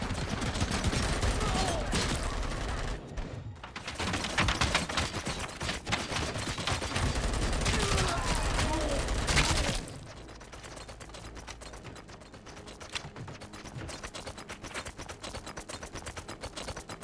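Sustained machine gun fire in the RoboCop: Rogue City video game, a dense rapid rattle of shots lasting about ten seconds before dropping to quieter scattered mechanical clatter and softer bursts.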